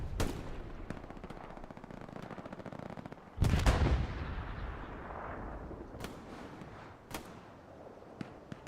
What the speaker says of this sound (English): Go Piss gets a solid rocket over there to the left side